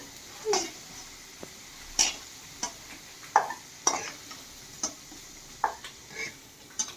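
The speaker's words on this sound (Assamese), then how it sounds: "এই আলুটো ফ্ৰাই হৈ গ'ল মোৰ" Potato pieces fry in hot oil with a faint, steady sizzle, broken by scattered light clinks and taps of a utensil at irregular intervals, quiet and close.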